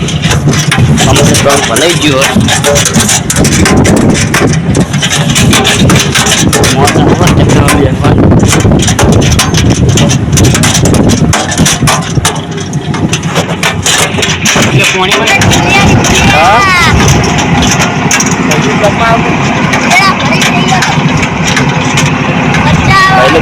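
A tractor engine runs continuously in a farm field during loading, a loud, rough, sustained mechanical drone with heavy background noise and people talking over it throughout.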